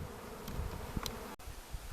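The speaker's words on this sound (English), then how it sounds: "there's a lot of bees that are going in the box" Swarm of honey bees being caught in a box, a dense, steady buzzing from many bees close by, with light knocks and rustles, no talking.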